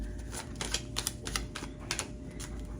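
Tarot cards being shuffled, a quick run of crisp clicking and slapping bursts close by, in a loose uneven rhythm.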